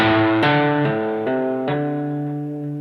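An electric guitar plays a pentatonic lick legato, picked once and then carried by hammer-ons and pull-offs. Five connected notes ring in a smooth, even run, each sustaining into the next, with a long decay at the end and no talking.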